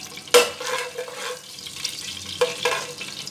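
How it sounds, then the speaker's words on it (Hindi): Cumin seeds fry in hot oil for a low, steady sizzle, broken by two sharper bursts as the spoon stirs the pan. The sound is close and moderately loud, with no talking over it. "ऑयल में डाल दूँगी थोड़ा सा ज़ीरा। इसको थोड़ा सा ब्राउन कर लेते हैं।"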